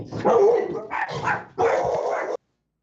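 A dog barking at a courier arriving at the door, several loud, close barks and yips in three bursts, with a brief whimpering tone between them, then silence.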